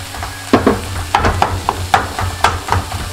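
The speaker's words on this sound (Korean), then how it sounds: "자, 이제 김치에 기름이 돌고 볶아졌잖아요" Rice and kimchi stir-fry in oil in a pan, a steady close sizzle broken by repeated scraping stirs and tossing strokes at an even rhythm, with no talk.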